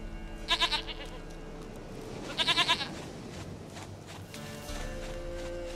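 Goat bleating in The Witcher 3: Wild Hunt, two distinct wavering bleats a couple of seconds apart over game ambience and faint footsteps, no talking.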